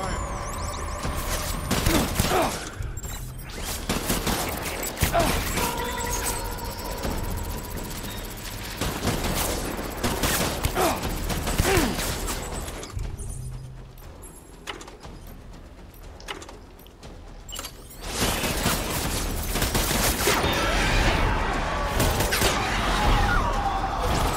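Rapid bursts of gunfire from the video game Death Stranding crack loudly and densely, with sustained volleys, brief lulls and siren-like tones weaving through the battle noise.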